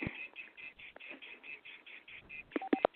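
Repeated electronic telephone tones pulse steadily from a phone left off the hook during a group call, with a few louder blips near the end and faint background noise.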